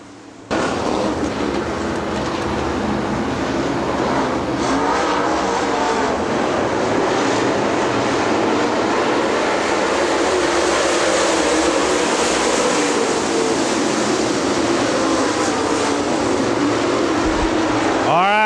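Super late model race cars roar around the Dixie Speedway dirt oval in a steady, loud, continuous engine drone that holds for the whole stretch, with a race announcer talking over the pack.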